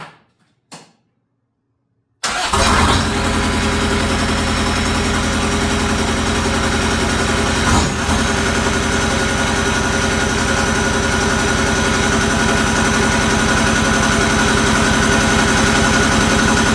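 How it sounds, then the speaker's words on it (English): A steady, rumbling Kubota diesel engine in a Willys MB idles through a 2 1/4-inch exhaust, loud and close, after a couple of brief knocks and a short silence at the start. "that's what it sounds like right now with the bigger exhaust, the 2 1/4-inch exhaust"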